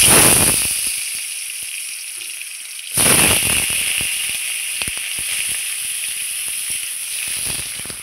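Potatoes dropped into hot oil left from frying dried chillies, a sudden loud hissing sizzle that surges and then settles into a steady crackling fry with scattered pops.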